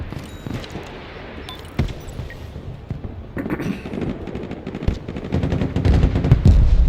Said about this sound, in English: How fast the SVDs are firing